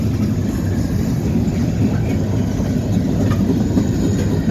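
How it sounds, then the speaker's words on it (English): A train rolls past in Bessemer in the morning, a loud, steady rumble of wheels and rail cars that holds unbroken and close throughout, with faint clacking on top. "there goes the train"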